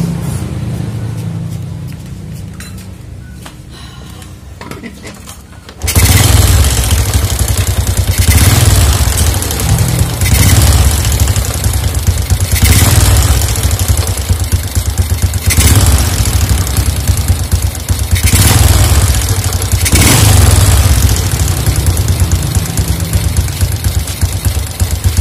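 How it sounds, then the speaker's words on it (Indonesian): Honda Absolute Revo motorcycle with a rough-sounding engine: after a quieter lead-in, the engine fires up and idles loudly with a harsh, uneven, knocking chatter, punctuated by several brief throttle blips that swell and fall. "Terus bunyinya kasar banget di mesin."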